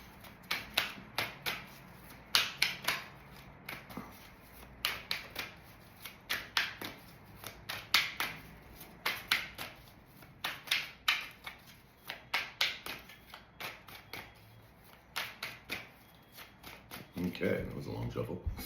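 Tarot cards are shuffled close up in a long run of quick, sharp riffling bursts and taps. Near the end a soft voice speaks briefly.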